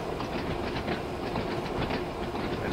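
Train running on rails in the video game Train Sim World 2 on the Ryde Pier Head to Shanklin line, a steady rolling rumble with a fast clickety-clack rhythm, heard up close and alone.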